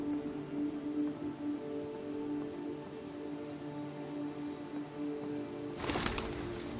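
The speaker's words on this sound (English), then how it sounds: "There's a lot of birds in this bitch." Doves or pigeons coo softly and rhythmically over a steady game-world hum in Detroit: Become Human, ending with a short, loud flurry of wing flaps.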